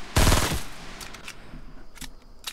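Gunfire from Fortnite Battle Royale: one loud close burst of rapid shots at the start, followed by fainter scattered shots and game effects.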